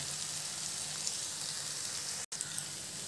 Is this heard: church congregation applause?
no